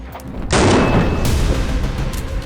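A single loud rifle gunshot fired through a Deadair 3-prong muzzle device, a sharp concussive boom followed by a long rumbling decay and reverberant tail outdoors.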